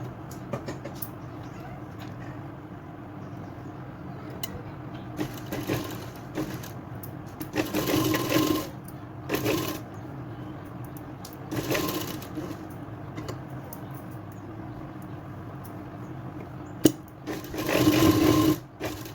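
A sewing machine stitches along a blouse back neck in several separate bursts, each run a steady close whir broken by pauses, with faint handling noise in between.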